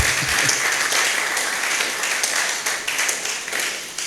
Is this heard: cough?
no